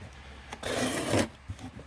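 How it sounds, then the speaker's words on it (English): Cardboard box for a Spyderco Amalgam knife being opened, a short scraping, rubbing rasp of cardboard and packaging lasting about half a second, close and fairly loud, with quieter handling rustles before and after. "opening up the box for the first time for the Spyderco Amalgam"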